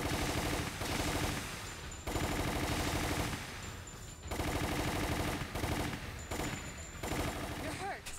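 Long bursts of rapid machine-gun fire in Resident Evil The Umbrella Chronicles repeat with short gaps between them, loud and close, with game sound effects layered in.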